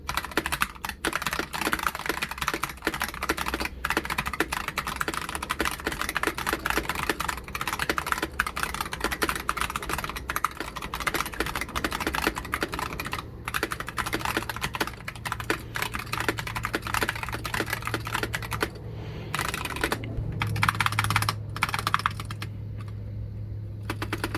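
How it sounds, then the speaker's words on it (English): A typing test on a Razer Huntsman TE gaming keyboard, with steady, rapid keystroke clatter close to the mic that runs for about twenty seconds before thinning out into a few final presses. "So I'm gonna go ahead and give a typing test."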